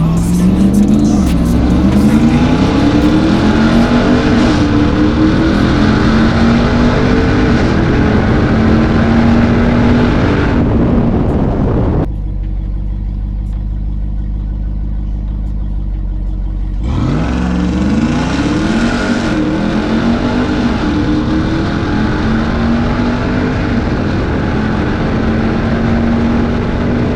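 A Ram TRX truck drives with its exhaust cutouts open, its loud engine roaring and rising in pitch up close for most of the stretch, with a brief drop to a steady low idle-like drone partway through.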